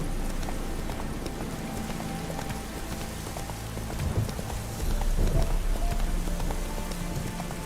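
Roach the horse clip-clops along in The Witcher 3, its hooves making a steady, soft rhythmic patter against a rain-like hiss, with a slightly louder flurry of steps near the end.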